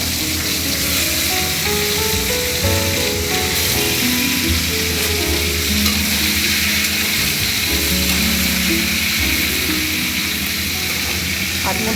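Vegetables for a home-style radish chachchari with beans, potato and eggplant hiss loudly in hot oil, a constant close sizzle beneath a steady background hum and tonal layer.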